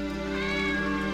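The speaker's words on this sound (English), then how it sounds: "Ooh, cat!" A cat meows in a horror video game, a single drawn-out, tonal mew with rich harmonics, close and clear with no talking over it.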